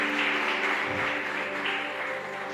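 A church congregation applauding during a sermon, a dense, steady wash of clapping that holds at an even level and eases slightly toward the end, with no voices over it.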